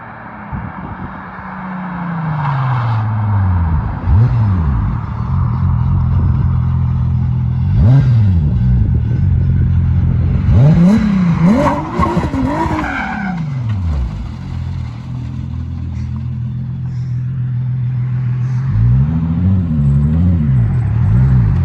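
A turbocharged MR2 sports car engine revs hard again and again, pitch sweeping up and dropping between bursts, loud and close, with a brief squeal in the middle.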